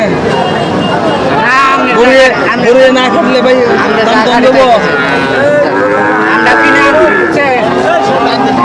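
Cattle mooing at a busy cattle market, several long lowing calls rising over dense, loud chatter and bargaining voices nearby.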